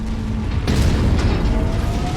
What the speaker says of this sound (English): My cannon shot hits the rock.